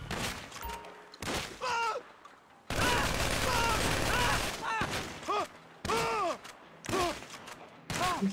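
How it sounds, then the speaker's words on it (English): Shotgun fire in the Fortnite video game comes as a sustained burst of gunfire in the middle, with shorter bangs around it, while several players talk over the action. "He's afraid of this shotgun."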